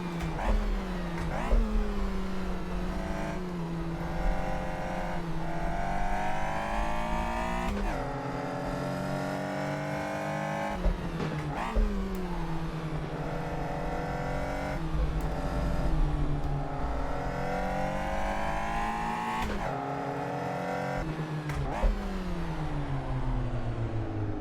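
A Caterham Super7 1700 on a fast lap at Vallelunga, with a loud, close engine revving hard through the gears. Repeated climbs in pitch are broken by sharp shifts and lifts for corners, with no talking.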